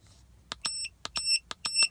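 A cheap car code reader gives out electronic beeps in a quick repeating pattern, about seven short tones in pairs, close and clear with no voices.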